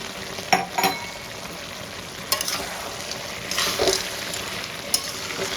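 Mixed vegetable curry with crushed fried lentil dumplings sautéing in a pan, a steady close sizzle broken by a few sharp scrapes and clacks of stirring; no voices.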